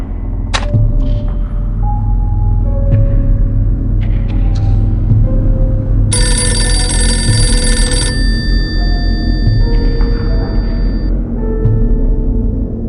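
A telephone rings in a single sustained burst in the video game Dracula 3: Path of the Dragon, loud over a dark, droning in-game score and low rumbling ambience.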